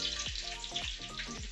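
Green chillies dropped into hot oil in a pan sizzle loudly and continuously, with a few sharp bursts of crackling as pieces hit the oil, close up and with no voices.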